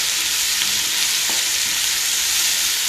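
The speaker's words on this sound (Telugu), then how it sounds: "half table spoon ginger garlic paste వేసుకుందామండి మనం మిక్స్ చేసేసుకుందాం కంప్లీట్గా చక్కగా ఫ్రై అయ్యే వరకు వెయిట్ చేద్దాం" Half a tablespoon of ginger garlic paste fries in a pan for oats khichdi, giving a loud, steady, close hiss of sizzling with faint stirring underneath and no voices.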